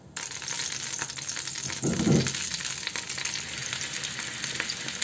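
Potatoes fry in a little oil, a steady close crackling sizzle with a brief louder burst of bubbling partway through, no voices.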